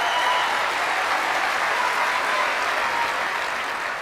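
A crowd applauds in a steady, dense wash of clapping that holds evenly from start to finish at moderate loudness, with no voices standing out.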